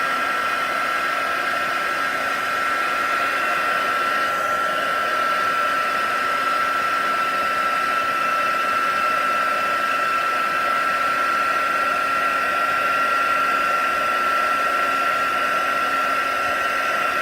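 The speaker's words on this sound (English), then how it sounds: "I'm just heating up and melting the embossing powder" A heat tool blows steadily to melt embossing powder, its continuous fan-and-heater whine holding even and close for the whole stretch, with a faint steady tone running underneath.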